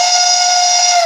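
The steam whistle of a Bachmann K4s streamlined HO-scale model locomotive, number 2665, gives one steady, loud, slightly hissy blast of about a second, heard alone.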